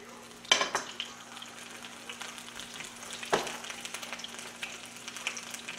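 Rolled taco shells frying in hot oil in a pan, a steady sizzle with a couple of sharp crackling bursts as shells are set in, over a low background hum.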